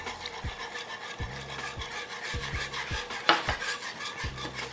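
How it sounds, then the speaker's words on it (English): A whisk scrapes and taps in a pan as a slurry goes into braised beef short rib sauce, a steady wet rubbing with regular soft knocks against the metal, close and moderately loud. "And then I'm gonna whisk in the slurry"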